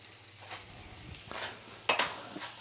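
Scrambled egg cooking in an all-in-one breakfast pan, a soft steady sizzle with a couple of scraping stirs as the edges are pushed in, close and fairly quiet, no talk.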